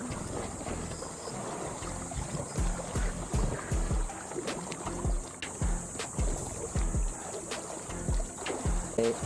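Strong sea waves at a rocky shore where mussels are gathered, a continuous wash with repeated surging splashes and crashes at close range, with wind noise throughout.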